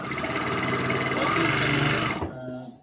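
A sewing machine stitches continuously in a fast, even mechanical whir for about two seconds, close and loud, then stops abruptly, leaving a faint low hum.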